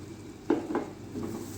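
Milk, coconut powder and sugar being stirred into sooji in a pan over a flame, with a soft sizzle and two or three scraping strokes of a spoon.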